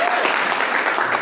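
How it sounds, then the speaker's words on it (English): Audience applause at a panel discussion as panelist Nick Smith is introduced: a dense, steady wash of clapping from many hands throughout the brief moment. "Nick, all right, round of applause for him."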